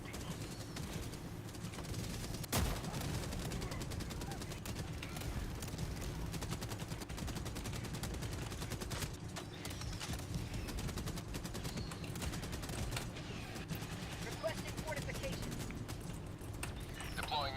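Small automated turrets in a video game firing bursts of gunfire, rapid crackling shots continuing steadily at moderate distance within a dense, noisy battle mix.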